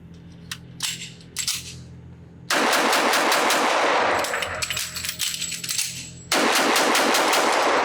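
A Sig Sauer P245 compact .45 ACP pistol fired fast at a range: a few sharp separate shots, then long dense strings of rapid loud reports, close and sustained.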